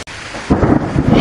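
Thunder rolls in with a deep, close rumble over steady heavy rain during a storm, loud and continuous after a brief quiet start.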